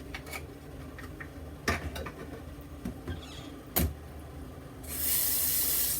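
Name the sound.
running tap water for rinsing off alum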